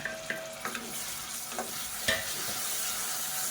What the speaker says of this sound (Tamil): இப்போ நல்லா மசிஞ்சு வர அளவுக்கு வதக்கிக்கலாம்.